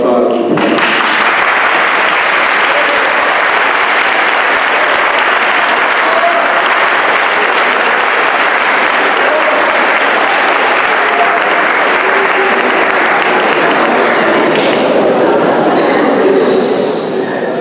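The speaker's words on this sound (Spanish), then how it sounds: "me gustaría que todos les demos un aplauso al grupo" A large audience claps steadily for a performing group at a Luz de Belén 2016 celebration, a dense, loud wash of applause that goes on for the whole stretch.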